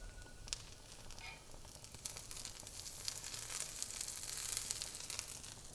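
Onions fry in a pan with ghee, a faint, steady sizzle with scattered crackles and pops that grows a little busier toward the end.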